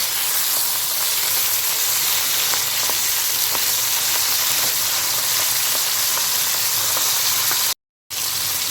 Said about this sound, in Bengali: পাবদা মাছ সবসময় একটু হাই ফ্লেমে ভাজবার চেষ্টা করবে